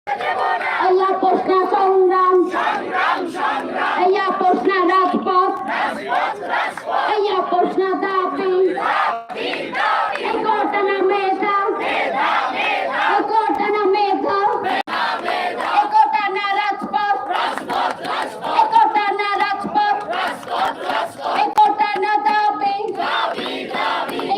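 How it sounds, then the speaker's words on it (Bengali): Protesting Barishal University students blocking the Barishal–Dhaka–Kuakata highway, chanting slogans in loud, rhythmic unison, a lead voice calling and the crowd answering in repeated bursts, close and sustained throughout. "সেই মহাসড়কে তারা অবস্থান নিয়ে বিভিন্ন স্লোগান দিচ্ছে"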